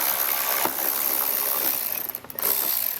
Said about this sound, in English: So we'll go ahead and take these 2 screws out